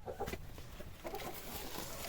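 Soft, somewhat distant clucking of chickens, a few short calls over low background noise.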